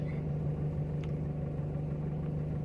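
A Timor car engine running steadily with a low, even drone and mild rumble, close by and alone, with no clear rise in revs.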